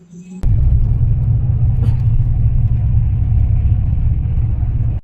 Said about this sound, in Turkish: Otobüsümüz o.